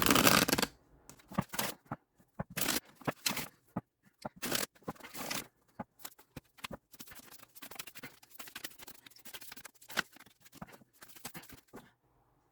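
A deck of cards being shuffled hand over hand during a tarot reading, giving repeated close riffling and slapping bursts in an irregular rhythm, loud at the start and then softer, with no voices.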